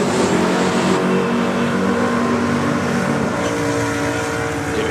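A drag race car running on radial tires launches down the track, producing a loud, sustained engine roar that stays dense and steady with a slight shift in pitch as it pulls away.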